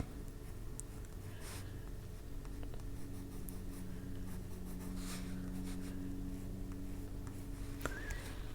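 White Prismacolor colored pencil scratching softly across paper, a faint, steady rasp of short strokes highlighting fabric crinkles, heard alone and close.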